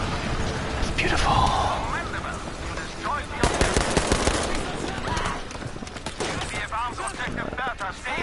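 Trench carbine fire in a first-person shooter, with repeated sharp shots cracking over a busy battle din while a person talks.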